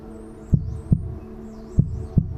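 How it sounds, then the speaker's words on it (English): A heartbeat sound effect, deep paired thumps in a slow steady rhythm over a low hum, close and distinct. "I think like a heartbeat."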